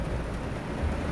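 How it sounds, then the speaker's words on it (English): Heavy rain pouring down as a dense, continuous roar with a low rumble underneath, loud and steady for the brief moment, no voices. "wow, it's really raining, guys"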